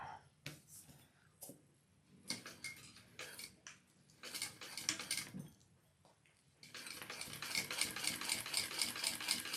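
A sewing machine runs top stitching on a handbag connector in short whirring bursts separated by pauses and handling clicks, then a longer steady run at the end, fairly quiet and close.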